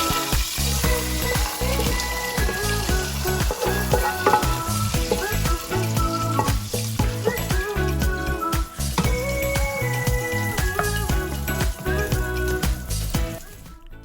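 Bacon fries in a pot with vegetables, giving a steady, continuous sizzle that runs for the whole stretch beneath prominent background music.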